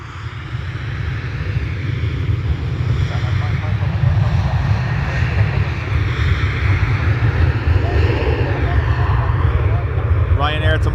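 A Ryanair airliner bound for Malta flies past at Dublin Airport, a steady low engine drone that builds slightly in loudness, with a voice speaking near the end.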